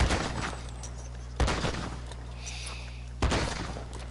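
Shotgun fire in the Red Dead Online video game on PlayStation 4: three loud, separate blasts spaced about two seconds apart, each followed by a short decaying tail over a steady low hum.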